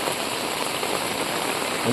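Heavy rain pours down steadily in a village in Tirunelveli, a dense, loud, unbroken hiss of drops hitting surfaces with no pauses and no voices.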